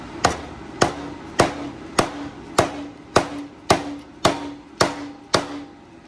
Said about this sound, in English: take the rubber hammer and hit it in that direction